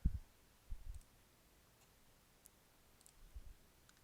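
A computer mouse clicking sparsely, a few soft dull clicks against a quiet background, with no voices.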